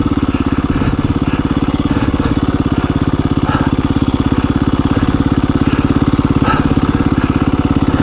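A KTM 350 EXC-f dual sport motorcycle creeps along at very low speed, its single-cylinder engine thumping in a steady, close, rapid putter near idle, with a few faint clicks and knocks over the top.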